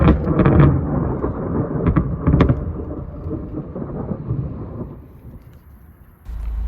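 Thunder from a fast-changing Calgary storm rolls in long, heavy low rumbles, loud at first and fading toward a quieter stretch before another deep boom breaks in at the end.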